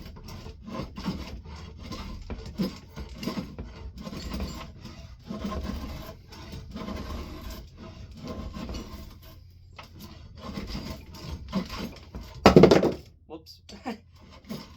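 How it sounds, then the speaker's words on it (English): A sharpened draw knife shaving wood into curls, a series of rough rasping strokes at close range, repeated in uneven bursts, with someone talking over much of it and one sharp clatter near the end. "you can use a draw knife, sharpen it efficiently, and you get this shavings that I'm getting right here"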